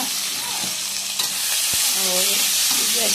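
Tomatoes tossed into very hot oil with hing for an alasande and suvarna gadde gravy, giving a loud continuous sizzle and hiss close up, with a sharp knock partway through.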